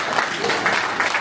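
Audience applause at a conference in Cotonou, a brief, dense burst of many hands clapping together at a steady, fairly loud level.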